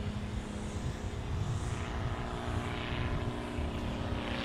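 A Boeing 777-9 test aircraft being towed out by a tug at Boeing Field, Seattle, heard as a steady, distant droning hum of engines and machinery, continuous and fairly faint.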